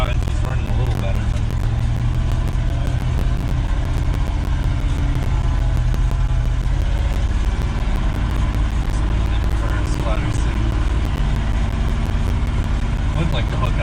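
A 1973 Ford F-250 truck engine idles steadily in the snow with a continuous low rumble and no revving.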